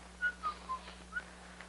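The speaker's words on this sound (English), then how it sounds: "go ahead and whistle" A person whistles a short, faint tune of four or five clear notes in quick succession, quiet against a low steady hum in the background.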